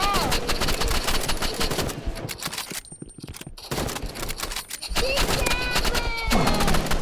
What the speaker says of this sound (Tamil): உன்னோட கன் வந்து விறுவிறுன்னு போடுதுடா